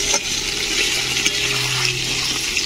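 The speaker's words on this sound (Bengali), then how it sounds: "এখন আমি দইগুলো এর মধ্যে দিয়ে দেব" Curd hits sautéed pointed gourd in a hot wok and sizzles in a continuous, fairly loud hiss with faint stirring underneath.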